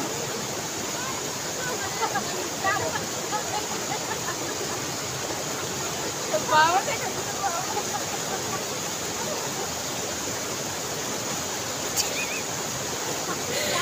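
Steady broadband rush of flowing water fills the whole clip, with faint voices briefly audible beneath it.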